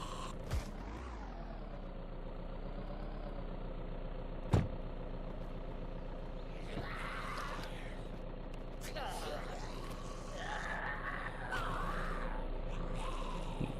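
The engine of a box truck in the zombie survival game VEIN, idling and revving in a steady mid-pitched drone. Sharp clanks and bursts of noise come over it.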